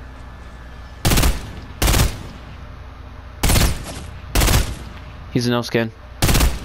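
Bursts of thermal scoped assault rifle fire in Fortnite: several loud, sharp rapid-fire volleys separated by short pauses, with a brief spoken line and faint game ambience between shots.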